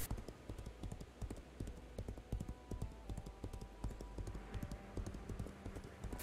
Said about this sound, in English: 35 minutes of running on my horse